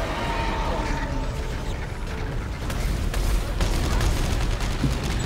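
Rapid weapon fire in the sci-fi horror shooter Dead Space 3, a steady dense barrage of shots with mechanical clatter, loud and continuous, with game voices and a player talking over it.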